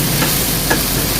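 Veg chow mein is stirred in a hot pan, giving a steady close sizzle with a couple of soft scraping strokes of the utensil.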